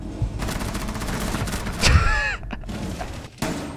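MP7 submachine gun fire in a shooter video game, a rapid burst of sharp reports followed by a thud and a whistling ricochet-like sweep, then a couple of isolated shots.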